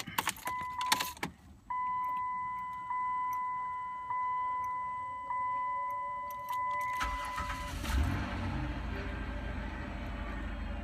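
A Chrysler front-wheel-drive van with a six-cylinder engine: key clicks and a steady chime, then the starter cranks and the engine catches and settles into a close, even idle.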